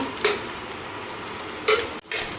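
Onions and green chillies frying in a pan for paneer bhurji, a steady low sizzle with two brief scraping stirs and a short break near the end.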